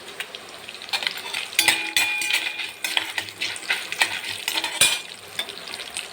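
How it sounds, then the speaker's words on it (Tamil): Ingredients for coriander chutney fry and sizzle in a pan while a utensil stirs and scrapes against the metal in irregular bursts, close and fairly loud with no voices. "போட்டு இது பாதி அளவு வறுக்கிற வரைக்கும் வறுத்துக்கோங்க"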